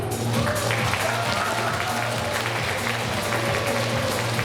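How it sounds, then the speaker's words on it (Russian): Audience applause in a school hall during a talent show, a steady wash of clapping lasting the whole stretch over a low hum, with some voices mixed in. "Провожаем аплодисментами."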